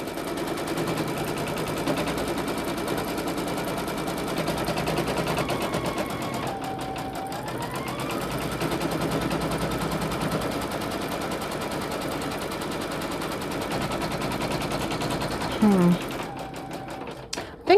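Embroidery machine stitching a T-shirt left-chest double appliqué with black thread, a steady rapid needle chatter running throughout, with a person talking over it.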